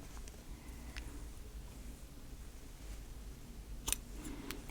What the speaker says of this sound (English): I'm just going to sort of trim it down, both the lining